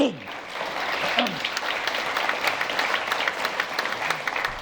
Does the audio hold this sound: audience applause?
yes